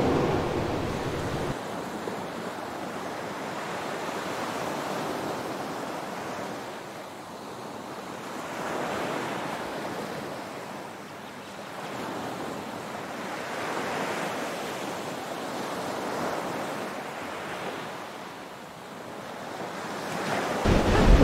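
Strong wind and sea waves along the Dawlish sea wall, a continuous roar of surf with slow swells rising and falling in loudness every few seconds, wind buffeting throughout, no talking.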